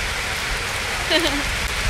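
Heavy rain pouring onto a moored barge, a dense continuous hiss of drops drumming on the surface, close and steady, with faint voices briefly under it.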